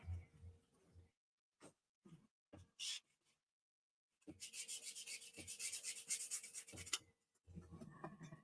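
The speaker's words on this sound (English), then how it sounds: "You just keep sanding it and tweaking it until it feels good in your hand." Hand sanding on a wooden handle: a few short scrapes, then a long steady rasping stretch of rubbing, close and fairly quiet.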